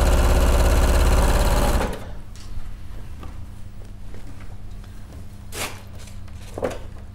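A sewing machine, a 720 model, runs loud and steady in a continuous stitching burst through fabric, then stops abruptly and leaves quiet room noise with a few small handling clicks.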